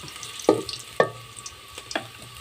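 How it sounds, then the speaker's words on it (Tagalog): Aromatics sautéing in hot oil for a pork dish, with a steady sizzle broken by three sharp, loud bursts of stirring or ingredients hitting the pan. "Gisahin muna natin yung ating pampabango."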